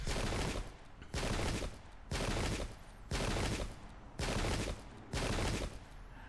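Musket volleys fire in Pike and Shot during an American Revolutionary War battle near Mary's Heights, six loud, even blasts about a second apart, each crackling volley trailing off into a brief lull.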